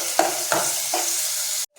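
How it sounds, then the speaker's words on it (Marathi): Onion and tomato sautéing in a pan with a pinch of asafoetida for a Maharashtrian rassa bhaji: a steady bright sizzle broken by three scraping stirs, close and fairly loud, cut off abruptly near the end. "आपला कांदा गुलाबी झालाय, त्यात आपण अर्धा चमचा हिंग आणखी टॅमॅटो हे सुद्धा आपल्याला व्यवस्थित परतून घ्यायचं"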